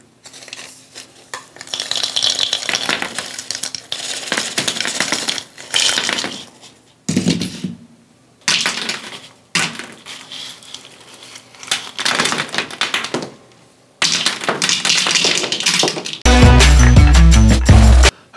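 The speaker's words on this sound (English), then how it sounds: "I'm going to just kind of empty the bowl as we go." Pretzels tumbling and clattering out of a bowl during a home product shoot, in several separate rattling bursts with short pauses between them and a louder, denser burst near the end; no one speaks.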